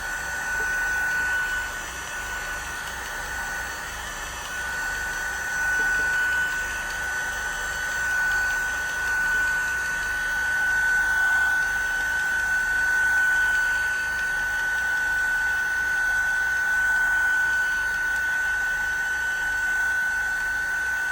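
A hair dryer blows steadily on paint spread over a gelli plate, a continuous, fairly loud whooshing hum that holds an even level for the whole stretch with no one speaking.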